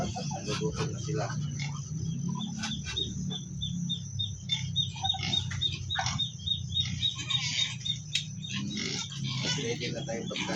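Native pigs at feeding time on a small farm, grunting and squealing in a busy, continuous jumble. A voice talks over them and faint bird or insect chirps sit in the background.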